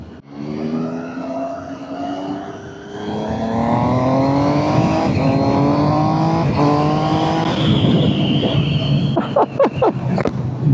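A 2026 Triumph Trident 800 motorcycle engine revs hard and close, its pitch climbing steadily through the gears in a loud, continuous howl, then breaking into sharp, choppy bursts at the end.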